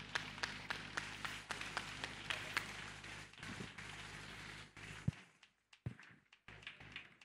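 Congregation applauding during a church service, with scattered claps and taps that fade out after about five seconds into near silence with a few isolated thumps.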